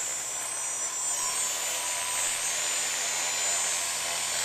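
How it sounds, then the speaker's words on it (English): A small quadcopter motor whines loud and close, its high-pitched buzzing tone climbing steadily as the throttle is raised during a bench test. "You can see as I'm spinning it up, it kind of gets faster and faster."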